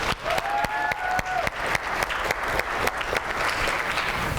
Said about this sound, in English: Give yourselves a round of applause for being the best.